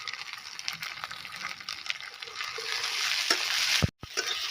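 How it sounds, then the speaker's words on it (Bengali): Green chili paste and chopped tomatoes fry in a pan of oil for a fish curry, giving a steady, close sizzle that swells slightly, with a brief clunk of stirring near the end. "কাঁচা লঙ্কা, টমেটো ভাজা হয়ে গেছে"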